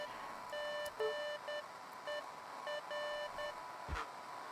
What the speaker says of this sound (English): there's like beeping and signals, and I can't tell if this is about aliens